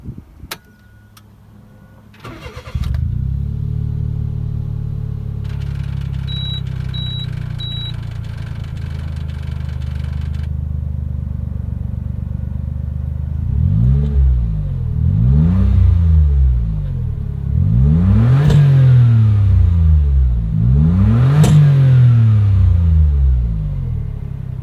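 A Suzuki Jimny off-roader starts up and idles with a steady low rumble, a brief electronic chime sounding partway through, then its engine revs hard four times in succession, each rising and falling swell loud and close.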